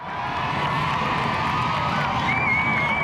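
A large crowd cheers on the Portsmouth seafront as HMS Ark Royal returns home, a broad, steady wash of distant voices and whoops with a thin whistle rising near the end.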